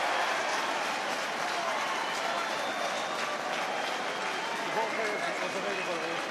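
A rugby crowd at a Dragons match cheers loudly and continuously after a try, a broad roar with applause sustained throughout.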